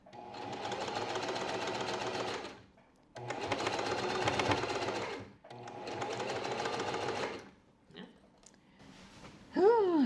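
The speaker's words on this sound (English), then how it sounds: "I'm going to be sewing all along here, and then just to finish it off, I'll just be doing a zigzag stitch on the edge." A sewing machine stitches a sleeve seam on a homemade top, running in three sustained loud bursts with short pauses, followed by quieter clicks and handling sounds near the end.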